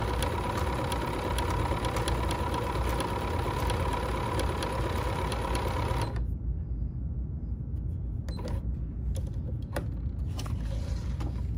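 A sewing machine running steadily as it stitches decorative rows beside earlier ones, with 9mm and 5.5mm stitch widths in use; a continuous motor whir fills the first six seconds, then quieter clicks and small mechanical sounds follow.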